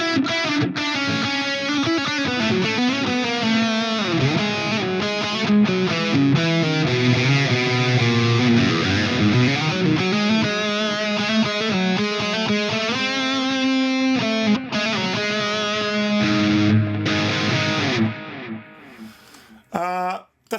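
Distorted electric guitar lead played through the ML Sound Labs AMPED amp sim with delay and noise gate, a dense, sustained, saturated tone with bends and runs for about eighteen seconds before it cuts out, loud and close.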